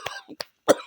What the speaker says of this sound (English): I still got a cough